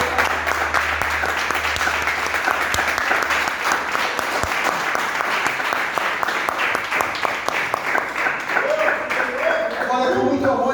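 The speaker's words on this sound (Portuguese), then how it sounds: "Vamos dar uma forte salva de palmas para você." A church congregation applauds steadily throughout, dense clapping filling the room, with some voices mixed in near the end.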